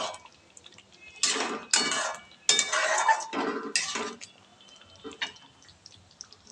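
A spoon mixes potato curry in a pot, making several close, wet scraping and clinking strokes in bursts, then fading to a few softer taps, with no talking.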